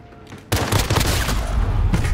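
Rapid automatic gunfire in the multiplayer Call of Duty Modern Warfare game bursts in loudly after a quiet half-second and rattles on continuously, dense and close.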